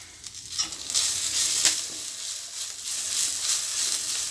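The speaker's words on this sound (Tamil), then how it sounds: "இப்போ இந்த டைமில் நம்ம வந்து கருவேப்பிலை சேர்த்துக்கிறோம்" Curry leaves dropped into a hot pan while making drumstick-leaf thuvaiyal, bursting into a loud hissing sizzle that settles into steady frying with faint stirring.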